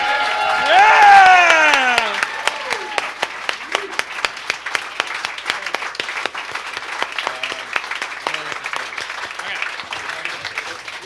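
An audience at a Q&A event in Meltdown Comics, a comics store, breaks into loud applause with whistles and cheers at first, then sustained dense clapping continues nearby.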